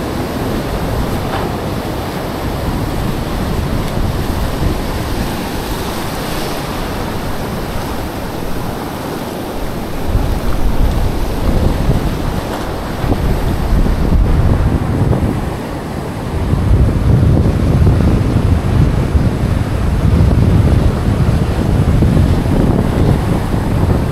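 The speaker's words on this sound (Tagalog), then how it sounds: "Medyo lumalakas na yung mga alon mga idol." Strengthening shoreline waves surge and wash in repeated swells, broad roaring noise mixed with gusty wind buffeting the microphone, growing louder in the later half.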